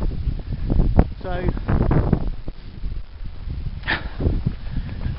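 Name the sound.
wind blowing on Snowdon mountain path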